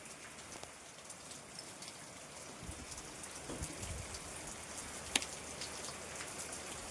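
Rain starts falling again, a steady patter of drops on surfaces with a soft continuous hiss, a few louder nearby drips and a sharp tap partway through.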